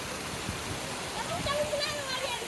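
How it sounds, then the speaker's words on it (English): Water overflowing at Kabaka's Lake, a man-made lake in Uganda, gives a steady rushing wash with faint higher trickles, fairly distant and continuous. "So when the water fills, it overflows."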